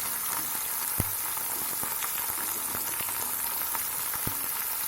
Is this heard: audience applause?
no